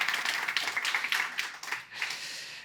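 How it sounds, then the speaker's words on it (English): Audience at a climate debate on upskilling applauds the against team, a moderate, fairly distant burst of clapping with a few louder swells that dips briefly before picking up again. "So here for the against team, please applaud."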